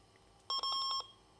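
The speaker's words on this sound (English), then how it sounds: "There's a beep noise, there's a green light down here." An Olivetti 486 DX2 66 MHz desktop computer gives a startup beep on power-on, a short, clean electronic tone pulsing rapidly about half a second long, heard alone in a quiet room.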